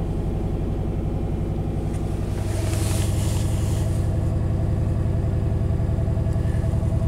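A classic Chevy engine idles steadily, a close, low mechanical rumble with an even rhythm that holds without stumbling throughout, with no voices over it.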